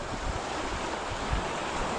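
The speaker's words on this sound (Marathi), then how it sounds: "आता बघा कसं झालं एकदम लाटा लाटा आली" Sea waves wash steadily over open water in steady wind during a fishing trip, with a continuous broadband surf roar and wind buffeting the microphone, loud and close throughout.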